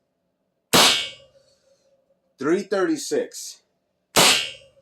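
Airgun carbine shots fired one at a time through a chronograph, two sharp loud cracks with a short ring, separated by someone speaking briefly.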